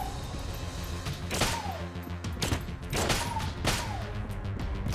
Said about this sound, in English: Shoots like the inside of the pillow out.